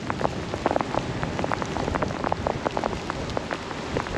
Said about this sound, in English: Rain's picking up now.